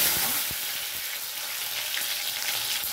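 Chopped tomato fries in hot oil, giving a close, steady crackling sizzle with a few light knocks near the start, with no voices over it.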